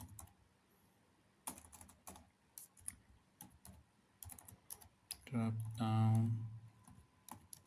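Fingers type on a computer keyboard in quick, irregular bursts of clicks, close by, while a voice speaks briefly.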